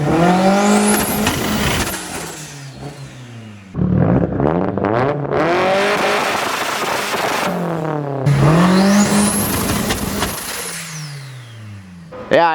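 A loud 1000 hp Mitsubishi Lancer Evo 9 turbo engine revving hard in repeated bursts on two-step launch control, with rapid popping and crackling between the revs, close by, and people talking over it.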